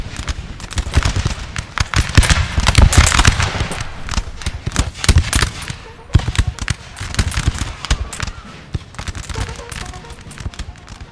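Rapid, dense volleys of musket fire and artillery booms from a Napoleonic battlefield at Waterloo's La Haye Sainte, loud and near, crackling continuously with brief lulls over about eleven seconds.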